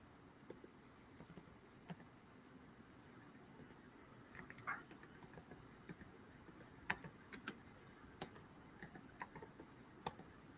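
Faint, sparse typewriter keystrokes sound as scattered sharp clicks at an uneven pace against a quiet background hum, with no talking.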